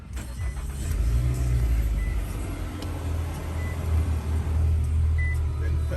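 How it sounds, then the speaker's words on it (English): A 2020 Nissan Altima SR runs close by, its engine sound steady and fairly loud with a low rumble throughout; no distinct cranking burst stands out, and no one speaks. "I'm gonna go ahead and start the car up"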